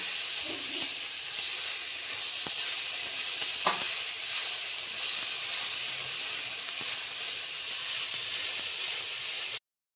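Cashews and raisins sizzle steadily in hot oil in a kadai, a continuous bright frying hiss with one brief clink near the middle, close and alone.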